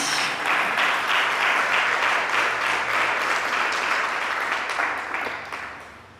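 A church congregation applauding during a service, broad and continuous clapping from many people that stays full for several seconds before tapering off at the end.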